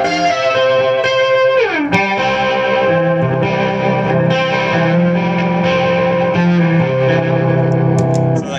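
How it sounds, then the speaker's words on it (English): Electric guitar through a THC Homebrew Electronics Chorus pedal set for a rotary-style tone, sustained distorted notes with a warbling shimmer and a sliding pitch drop early on, loud and close without talk. "The next pedal is this THC Homebrew Electronics Chorus,"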